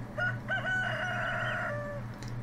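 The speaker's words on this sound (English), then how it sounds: "Cock a diddly doo, says the rooster." A rooster crows in the farming video game Stardew Valley, one drawn-out cock-a-doodle-doo lasting about two seconds, loud and close over a steady low background hum.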